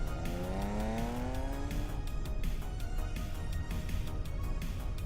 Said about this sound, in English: Car coming too fast.